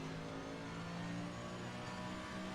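Red GSI race car at Zolder circuit, roughly 230 horsepower and rear-wheel drive, its engine droning steadily and loudly throughout with a sustained mid-pitched tone, no talking.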